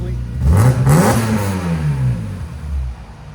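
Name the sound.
BMW M3 3.2L swap engine revving, headers, Borla ProXS exhaust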